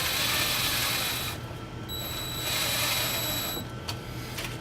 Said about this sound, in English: Alright, so just need to screw in the power supply.